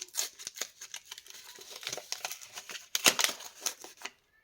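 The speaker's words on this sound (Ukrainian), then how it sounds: "відкриваємо наш пакетик. Так, я не хочу його порвати" A paper surprise packet being opened makes close, crisp crinkling and rustling with small tearing scratches in uneven bursts, ending in silence.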